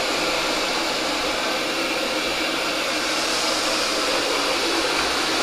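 A Roborock S7 Max V Ultra robot vacuum mopping a floor, giving off a steady, loud, even whooshing hum of motor and airflow with no pauses.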